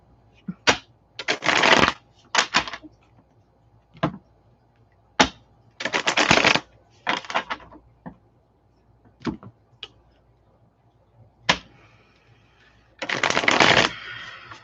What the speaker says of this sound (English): Then just to shuffle.